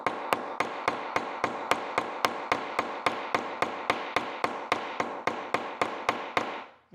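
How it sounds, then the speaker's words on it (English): A peen hammer taps rivets on a leather rifle sling in a steady run of about twenty sharp, evenly spaced strikes, close and crisp with no talking. "And then I go back with my peen hammer."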